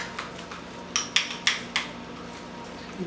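A spoon or utensil scrapes and clinks against a bowl while seasoning is mixed into butter for a Thanksgiving turkey stuffing, giving four or five sharp, close taps and scrapes over a quiet background.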